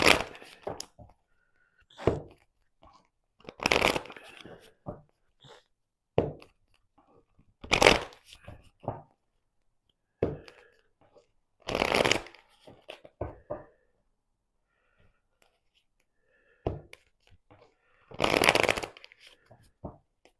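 Tarot cards being shuffled and cut close by, in repeated riffling bursts and soft taps separated by short quiet gaps.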